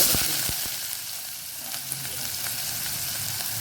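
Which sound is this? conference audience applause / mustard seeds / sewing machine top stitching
mustard seeds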